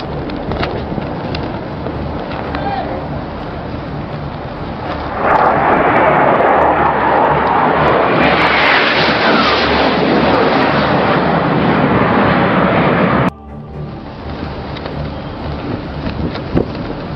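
An aircraft comes in low over a ship's flight deck at bridge-wing level, a loud, steady roar that swells midway and then cuts down sharply, heard close and alone against wind-buffeted noise.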